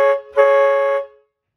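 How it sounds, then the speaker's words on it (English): Two blasts of a boat's air horn on a 1969 Glasspar Tacoma 14, a short honk followed by a longer sustained one of about 0.7 seconds, loud and close. "And then we have our horn here, which is the air horns."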